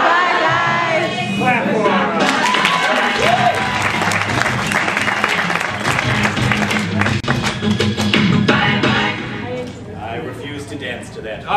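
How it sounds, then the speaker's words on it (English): A student audience at a Comedy Sportz improv performance claps loudly and steadily for players leaving the room, with scattered cheers and voices mixed into the dense applause throughout. "Clap for them."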